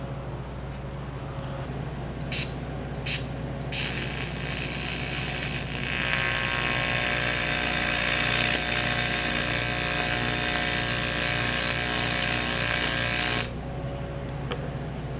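Steady buzzing welding arc on oil-soaked metal of a Jeep XJ, a continuous loud crackle lasting about ten seconds after a few short bursts, then cutting off abruptly near the end.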